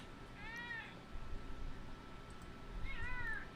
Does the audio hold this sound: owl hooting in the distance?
no